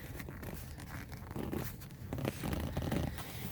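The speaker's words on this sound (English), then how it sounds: "I think you can just kind of peel this leather off the back of it here" Leather peeled away from the back of a Toyota Sienna armrest gives a close, steady run of tearing and crinkling rasps that grow louder toward the end, with no talking.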